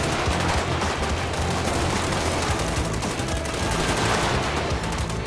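Sustained gunfire in a GTA 5 shootout under the LSPDFR police mod, with SWAT officers and gang members trading fire: dense, loud, continuous automatic bursts that overlap into an unbroken roar with no pauses and no voices.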